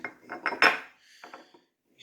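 Metal jaw of a Ridgid E110 hex wrench being slid into place, a short series of light metallic clicks and scrapes, close and fairly quiet, ending in silence.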